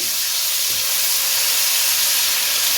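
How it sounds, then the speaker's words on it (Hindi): Ginger garlic paste fries with onions and whole spices in a pot for mixed vegetable pulao, making a loud, continuous, even hiss of sizzling oil with no breaks. "लहसुन अदरक पेस्ट को भी भून लें"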